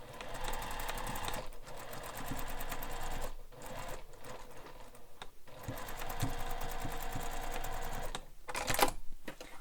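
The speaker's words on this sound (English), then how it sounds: "So you sew up the mesh and down the mesh." A sewing machine stitches up and down through mesh on a beach bag, its rapid mechanical chatter running in steady bursts with short pauses between passes, close and fairly loud with no voices.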